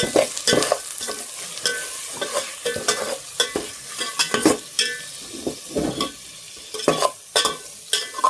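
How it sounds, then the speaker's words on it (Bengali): Chili, coriander and cumin powder masala stir-frying in a pan, with a spatula scraping and clattering in irregular bursts over a steady sizzle, close and fairly loud, with no talk. "এবার আমি মশলাটা ভালো করে কষিয়ে নেব।"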